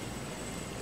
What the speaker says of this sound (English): I have to be quick, I can hear the helicopter.